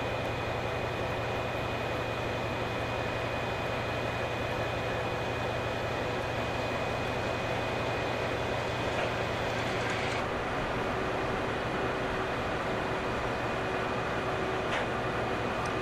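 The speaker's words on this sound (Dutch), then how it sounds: "Vanuit Aachen komt weer een regionale trein binnen met bestemming" A regional train from Aachen rumbles steadily into Herzogenrath station, a constant broad roar with a faint tonal whine, then a brief squeal.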